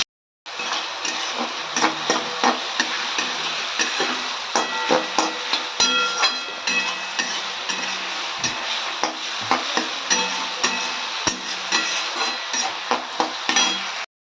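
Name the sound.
frying onions in hot oil in a kadai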